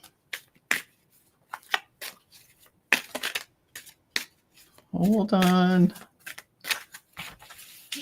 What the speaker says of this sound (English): We got to shuffle these cards nicely.